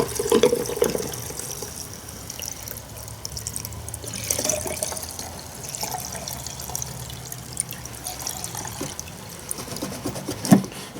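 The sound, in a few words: pouring gas into Stihl MS271 chainsaw tank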